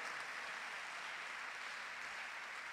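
A church congregation claps together in a steady, sustained wash of applause that neither swells nor breaks off, heard from within the crowd at moderate volume.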